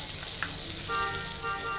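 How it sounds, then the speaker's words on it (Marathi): Four whole cloves, a piece of cinnamon and a bay leaf sauté in melted butter for tomato soup, giving a steady, close sizzling hiss throughout with a few faint higher crackles. "त्यामध्ये मी 4 लवंग घालते, 1 दालचिनीचा तुकडा घालते आणि 1 तेजपत्ता घालते आणि हे बटरमध्ये मी व्यवस्थित परतून घेते"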